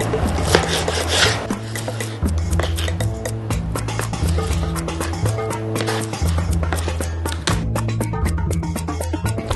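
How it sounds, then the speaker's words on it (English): Knife chopping cooked lobster meat into bite-sized pieces on a board, a steady run of quick, sharp taps over a low, sustained background tone. "Now what we're going to do is cut it into bite-sized pieces."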